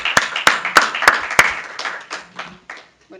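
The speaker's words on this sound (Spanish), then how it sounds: "Un aplauso, por favor." Clapping from a small audience at an academic colloquium on the humanities: a handful of sharp, evenly spaced claps up close, then scattered softer ones trailing off into quiet within about three seconds.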